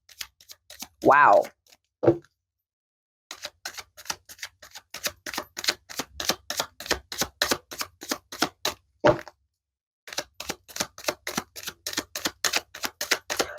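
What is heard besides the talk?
shuffling tarot cards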